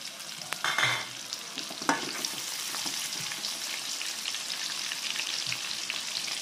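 Chopped shallots and garlic are stir-fried in a pan for a spicy-sour fish dish: steady close sizzling broken by a few louder scrapes and clatters of the spatula early on, quiet overall and without voices.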